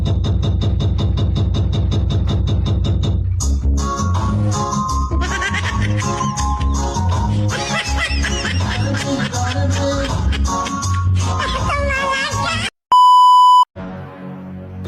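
A mobile phone gives off loud, rapid electronic beeps, repeating in a steady run at first, then continuing under a noisy stretch with shouting voices, before a final clear tone stands almost alone near the end.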